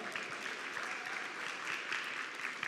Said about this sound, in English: Let's once again show our gratitude to Stuart Wainstock with a round of applause.